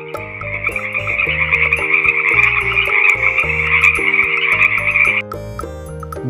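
A continuous chorus of frog croaks, loud and busy, running over light background music before stopping near the end.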